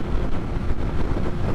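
Strong wind buffets a rider on a highway with no windshield, a loud continuous rumble and roar with gusty fluctuations and no voices.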